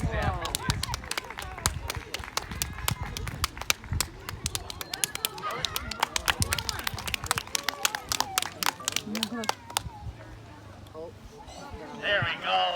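A trained animal named Griffin vocalizes on cue at a wildlife park, its voice-like calls mixed with a burst of rapid, close clapping from an audience that fades near the end.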